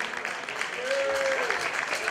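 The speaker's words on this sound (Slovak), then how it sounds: "Potlesk pre Ďuricovcov." An audience at a village wedding-games competition applauds a team with steady, moderate clapping, and a brief whistle-like tone rises over the clapping.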